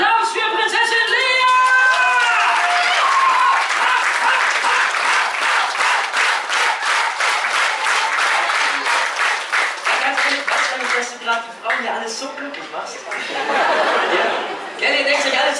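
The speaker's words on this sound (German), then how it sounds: "Applaus für Prinzessin Lea!" A live crowd at a Star Wars show in Legoland claps steadily for Princess Leia, with chuckles and chatter in the audience, while a presenter's voice rises over the applause at the start and end.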